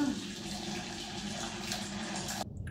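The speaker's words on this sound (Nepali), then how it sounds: "पानी हाल्छु म" Boiled water pours into a pot in a home kitchen, a steady broadband splashing stream running close and fairly loud for over two seconds before cutting off abruptly.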